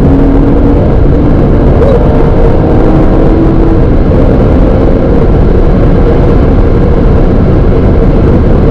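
A car engine drones loudly and steadily from inside the cabin while driving, a continuous low roar with a slight rise in pitch, with no talk over it.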